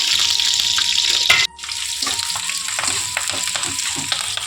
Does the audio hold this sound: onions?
yes